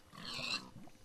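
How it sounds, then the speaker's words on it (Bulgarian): A pig in Minecraft grunts and oinks once at a pig farm, a short soft snort rising and fading over about a second, quiet and alone. "И прасетата идват"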